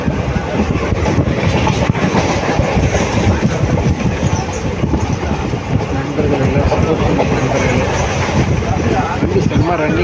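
Superfast express train running from Karur to Trichy, a steady loud roar of wheels and carriage rumble with rhythmic rail clatter throughout, continuous and close, with people talking over it.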